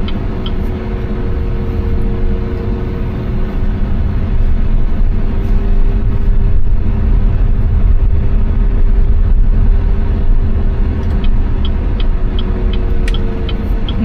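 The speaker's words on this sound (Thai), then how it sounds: "ถ้าเราขับที่ความเร็วต่ำกว่า30กิโลเมตรเนี่ยจะได้ยินเสียงจำลองของเครื่องยนต์นะครับ" A BYD Seal electric car's steady, low simulated engine hum, played below 30 km/h, drones continuously over the rumble of the car rolling slowly, with faint clicks toward the end.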